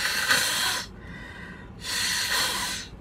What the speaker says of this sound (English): I need to blow my nose in order to breathe.